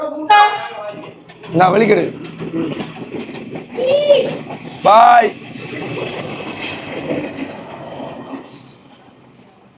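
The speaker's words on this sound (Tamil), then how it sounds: "இந்த இரவுக்கு ரயில் போகுது பாருங்க" A passing train at night sounds several loud horn blasts over a rumbling background while people talk nearby.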